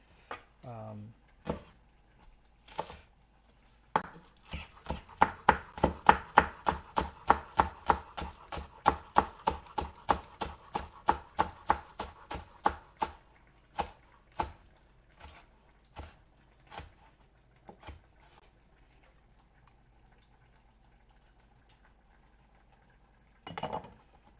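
Green onions chopped on a cutting board with a knife, a fast run of sharp, close knife taps that speeds up, then slows to scattered single chops and stops, with a brief clink at the end.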